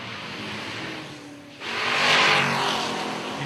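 A 1969 Chevelle drag car with a clutch pedal and stick shift roars on the strip, swelling suddenly into a loud, broad engine and exhaust rush after a brief dip, then holding strong.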